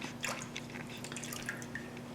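Water dripping steadily off freshly rinsed sprouts onto a clean dish towel, a quiet scatter of small irregular drips close by with no talking.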